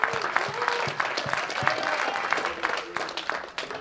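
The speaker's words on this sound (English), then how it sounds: "A big round of applause, Artem Lobov and Mississippi's own Jason Knight." Applause and cheering from a crowd at a bare-knuckle fighting event as main event fighters Artem Lobov and Jason Knight are introduced, steady clapping throughout with a voice speaking over it.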